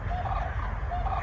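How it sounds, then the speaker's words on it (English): Sandhill cranes give rolling, trumpeting calls outdoors, a brief burst of rattling bugles set against steady background rumble and wind. "Sandhill cranes, right?"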